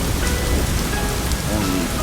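Heavy rain pours down during a Southern California storm, a dense, loud, steady hiss of drops hitting surfaces that continues throughout with no talk.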